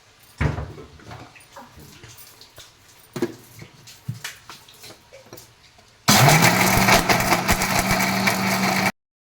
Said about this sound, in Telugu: దాంట్లో కొద్దిగా వాటర్ వేసుకొని మిక్సీ పట్టుకోవాలి